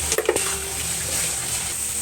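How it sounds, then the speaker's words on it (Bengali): Turmeric, chili powder, cumin powder and salt fry in hot oil with a steady, close sizzling hiss, opened by a couple of quick stirring clatters. "দেখো মশলা দিয়ে তেল ছেড়ে দিচ্ছে, তো মশলাটা ভাজা হয়ে গেছে"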